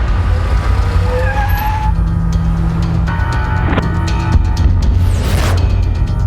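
A car pulls up and reverses in a film street scene, its engine a steady, loud low rumble throughout with a brief tire squeal or brake hiss near the end.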